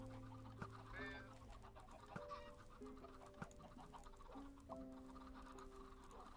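Chickens cluck repeatedly in the Minecraft video game, a cluster of short pitched clucks and squawks at moderate distance over a faint steady background hum, with no voices.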